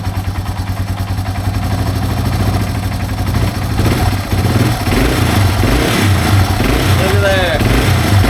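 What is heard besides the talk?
Yamaha TW200 motorcycle engine revving after carburetor overhaul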